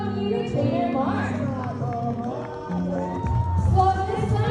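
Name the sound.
audience applause and cheering at bird show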